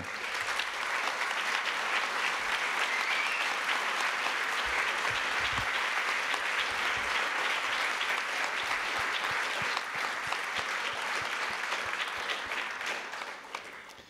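A large audience applauds steadily at the closing session of the Santé Mentale France national mental health congress, a dense, loud, sustained wash of clapping that carries on for the whole stretch and eases only slightly at the very end.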